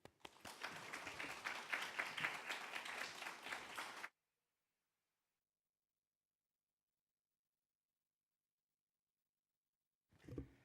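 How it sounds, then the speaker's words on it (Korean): A church congregation bursts into applause as the pastor comes forward, dense clapping for about four seconds before stopping abruptly, followed by silence and then a brief voice at the end. "목사님 나오실 때 감사의 박수로 환영하도록 하겠습니다"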